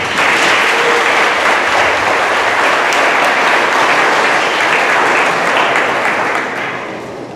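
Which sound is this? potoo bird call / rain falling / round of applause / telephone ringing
round of applause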